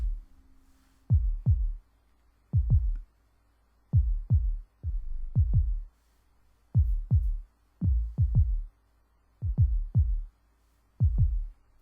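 The bass 002 synth preset from an Anarchy Audioworx plugin plays as short, deep, punchy bass notes in pairs, repeating in a steady rhythmic pattern with silent gaps between, clean and alone.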